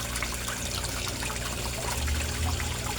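An 18-watt aquarium air pump bubbling water in a koi tank makes a steady, dense fizz and trickle at close range, with a low hum underneath and no voices.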